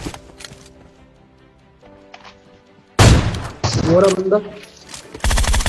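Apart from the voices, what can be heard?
sniper rifle gunfire in PUBG Mobile video game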